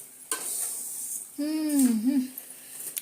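Oil heating in a frying pan crackles with a few sharp isolated pops over a faint hiss, and a short voiced sound rises briefly in the middle.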